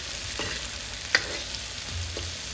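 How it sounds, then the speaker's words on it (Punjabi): Chopped onions and cumin fry in a pan for an aloo sandwich, a steady soft sizzle with a few faint scraping stirs and one brief sharp clink. "ਫਿਰ ਇਸ ਵਿੱਚ ਕੱਟੇ ਹੋਏ ਪਿਆਜ਼ ਪਾ ਦਿਓ ਇਹਨਾਂ ਨੂੰ ਵੀ ਪੁੰਨ ਲਵੋ"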